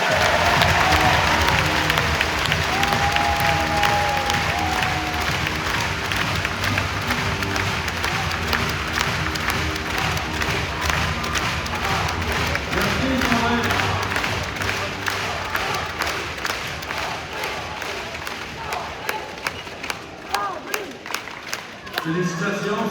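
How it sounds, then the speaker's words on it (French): Loud applause and cheering ring out for an honoree at an end-of-season sports club ceremony, a crowd clapping and whooping steadily before the noise thins to scattered individual claps. "Un maximum d'applaudissements s'il vous plaît pour Sandrine Mario."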